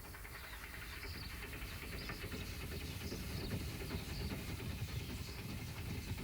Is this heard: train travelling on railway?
yes